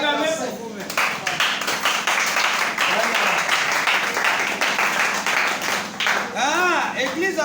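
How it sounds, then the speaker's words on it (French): An audience applauds at a church gathering, with dense, steady clapping that runs loudly for several seconds while a voice speaks over it near the start and end. "Acclamez pour vous-même."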